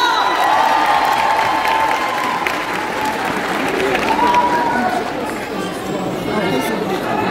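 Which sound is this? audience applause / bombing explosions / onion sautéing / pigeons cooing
audience applause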